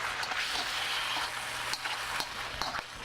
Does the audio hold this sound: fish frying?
yes